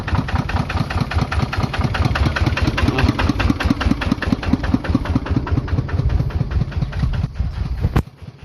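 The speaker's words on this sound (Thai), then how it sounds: "ทางรถซิ่งมา" A vehicle engine runs close by with a loud, rhythmic chugging idle, then cuts off abruptly just before the end.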